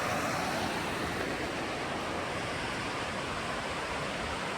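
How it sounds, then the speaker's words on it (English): Clayton Falls waterfall near Bella Coola, British Columbia, heard as a steady, unbroken broadband rush of falling water, fairly distant and even throughout with no talking. "looks like this is the Clayton Falls waterfall back there"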